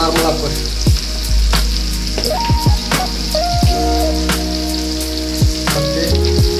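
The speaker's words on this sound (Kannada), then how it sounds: "ಮತ್ತು ಹಸಿಮೆಣಸಿನ್ಕಾಯಿ ಎಣ್ಣೆಲೆ ಫ್ರೈ ಮಾಡ್ತೀವಿ" Onions and green chillies fry in hot oil for a mutton curry, a steady close sizzle with crackling pops and occasional sharp clicks of a spoon against the pan, with no talking.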